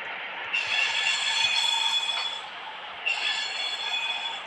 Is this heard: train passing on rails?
yes